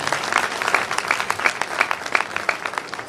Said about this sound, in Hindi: मैं चाहूँगा मेरे पापा के लिए एक जोरदार ताली हो जाए।